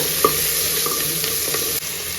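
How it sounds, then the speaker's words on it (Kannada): Chopped tomato frying in oil in a pan for a moong dal curry, a steady close sizzle with a few soft stirring scrapes and clinks, no talking. "ಟೊಮ್ಯಾಟೊ ಚೆನ್ನಾಗಿ ಸಾಫ್ಟ್ ಆಗೋ ತನಕ ಫ್ರೈ ಮಾಡ್ಕೊಳ್ಳೋಣ."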